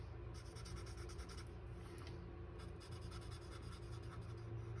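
A yellow alcohol marker being stroked over card paper, a continuous soft scratchy rubbing with quick repeated back-and-forth strokes, close and steady with no voices.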